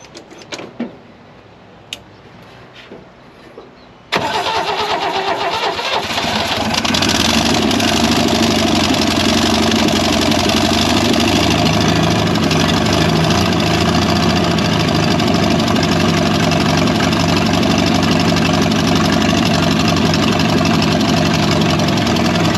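An old, abandoned Holden ute engine cranks briefly and fires, then settles into a loud, steady, rough idle that drones on continuously after a quiet stretch of small clicks.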